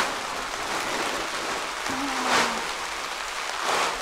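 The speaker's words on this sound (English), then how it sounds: "it's raining" Heavy rain falls steadily in an Italian backyard during a DIY shed build, a dense even hiss with occasional louder bursts of drumming and a brief tonal sound partway through.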